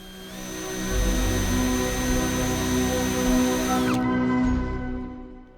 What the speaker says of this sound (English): Then we made neat holes in the saucer and light fixture using a step drill bit.